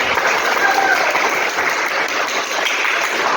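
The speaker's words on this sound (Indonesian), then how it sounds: "Tepuk tangan dulu." A room full of people claps steadily for a few seconds, dense and even, with no break in the applause.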